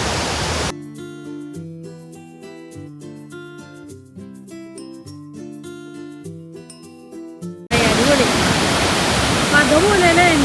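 Great Falls in New Jersey roaring with force, a loud broadband rush at the start and again at the end, with a stretch of instrumental music in between.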